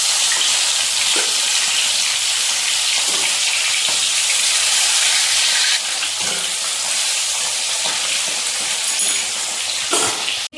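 Fish frying in a pan gives a steady, close, hissing sizzle that runs unbroken, with a few faint clinks of utensils and no talking.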